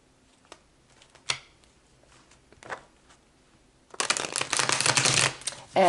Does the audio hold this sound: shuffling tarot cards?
yes